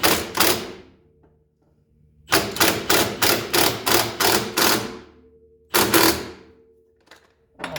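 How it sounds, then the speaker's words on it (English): A power tool tightens the inner suspension nut on a Mercedes W116 300SD, hammering in loud rapid impact bursts with a long run in the middle, separated by short quiet gaps. "Now let's go tighten the inner nut."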